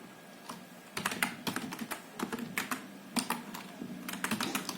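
Code being typed on a computer keyboard, with rapid clustered keystrokes and short bursts of clacking that start after a quiet moment and continue steadily, close and clear with no voices.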